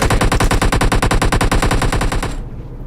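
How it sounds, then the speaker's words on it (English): Rapid automatic gunfire in the mobile shooter game PUBG Mobile, a loud, close, evenly spaced burst of about twenty shots lasting over two seconds before cutting off. "This guy's shooting at me out here."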